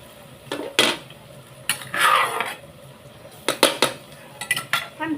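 Garlic and shallots stir-fried in a pan for a cabbage and pork belly dish, with a spatula scraping and clinking against the metal in bursts over a soft, steady sizzle.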